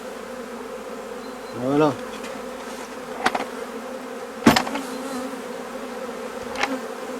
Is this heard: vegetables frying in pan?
no